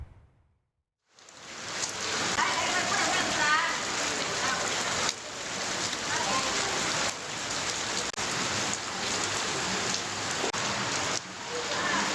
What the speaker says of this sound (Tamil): தொடர் மழை பெய்து வரும் நிலையில்